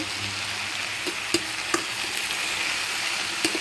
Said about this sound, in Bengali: শাকটা একটু পেঁয়াজ রসুনের সাথে মিশিয়ে নিচ্ছি